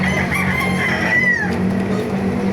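Gamefowl roosters crowing at a chicken market in Baliuag, Bulacan, one loud close crow rising and falling over a low murmur of clucking birds.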